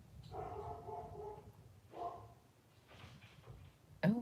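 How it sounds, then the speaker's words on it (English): Pet dogs bark and whimper indoors, a few faint, muffled barks spread out with pauses, heard at a distance against a quiet room. "Okay, my dogs are barking."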